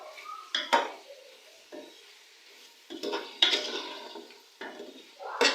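Spoon stirring tomatoes in a cooking pot for beef bhuna gosht, a few separate scraping clatters against the metal with short quiet gaps between them, close and fairly soft, no talking.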